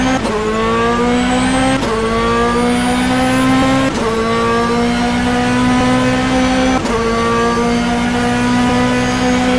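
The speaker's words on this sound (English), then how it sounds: "my Ferrari is pretty fast on this particular track of Circuit de Spa-Francorchamps" Ferrari GT2 race car engine roaring at Circuit de Spa-Francorchamps in rFactor, a loud steady high-revving drone with strong harmonics, broken by sharp gear shifts roughly every two seconds as revs climb again.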